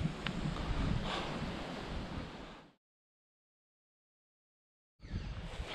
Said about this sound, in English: Geez, it's windy.